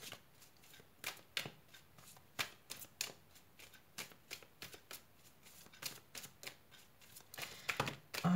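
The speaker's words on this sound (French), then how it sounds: "Je reprends le tas et je coupe." A deck of cards is shuffled and cut during a card reading, with repeated crisp riffling bursts in an uneven rhythm, close and fairly quiet, no voices.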